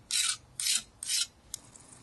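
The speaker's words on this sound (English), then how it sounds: "So I'm just going to scrape that off." Marinade is scraped off a tandoori leg of lamb in four short rasping strokes, close and crisp, the last one briefer and lighter.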